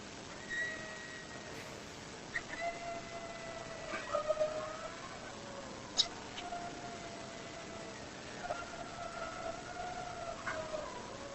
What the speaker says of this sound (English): quite literally coyotes.